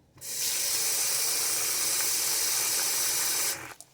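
Water is poured into a hot pan while homemade stuffing is being made, setting off a loud, sudden hiss of steam and sizzle that holds steady for about three seconds, then cuts off sharply.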